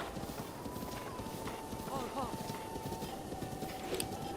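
A horse gallops in Zelda Breath of the Wild with steady rhythmic hoofbeats and a brief whinny, heard continuously under ongoing game sound and a person talking.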